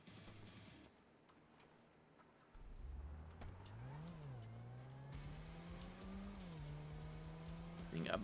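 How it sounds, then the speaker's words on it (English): A base-game truck engine in a roleplay video game idles, then revs and rises in pitch with a couple of throttle swells, moderately loud after a quieter start, with brief clicks. "So that's a base game truck."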